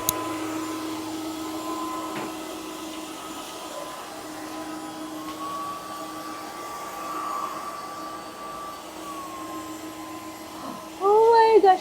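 A Dreame H13 Flex Reach wet and dry vacuum runs over crumbs with a steady, close motor whine and a shifting tonal hum, rising briefly louder near the end.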